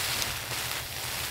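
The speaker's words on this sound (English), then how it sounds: "just listening to the tinkering sound of the little light rain on the tent" Light rain patters on a camping tent on the Cornish coast, a soft, steady spread of drops close by with no voices.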